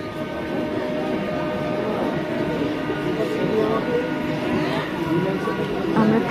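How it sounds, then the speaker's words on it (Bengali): A passenger train pulls in to platform one at an Indian railway station, its rumble and clatter steady and close. A public-address voice talks over the train. "Train number 31765 Sharda Tralgola New passenger is arriving on platform number 1."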